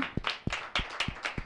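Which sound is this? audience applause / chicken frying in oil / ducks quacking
audience applause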